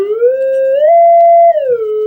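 A pure tone from a waveform generator kit glides smoothly upward, holds steady, then slides back down as the coarse pitch control is turned, clear and loud with nothing else behind it.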